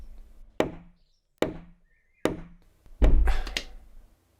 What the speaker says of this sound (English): as soon as I press record on the camera, everyone wants to start banging a hammer